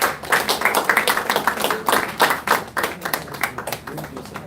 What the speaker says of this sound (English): A round of applause for Eddie.